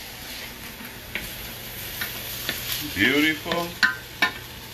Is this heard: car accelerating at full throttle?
no